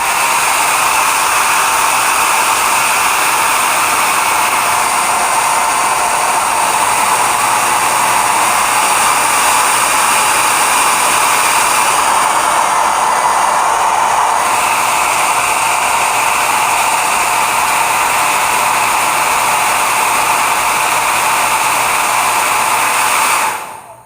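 A hair dryer blows steadily at full airflow for about twenty-four seconds, a loud, close, even rushing hiss with no talking, cutting off abruptly at the end.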